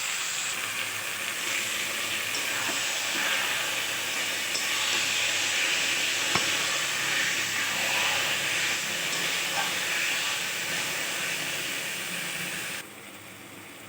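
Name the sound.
boiled taro leaves sizzling as added to pan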